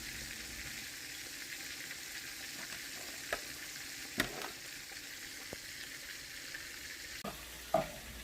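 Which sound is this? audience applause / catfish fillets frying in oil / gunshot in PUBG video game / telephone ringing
catfish fillets frying in oil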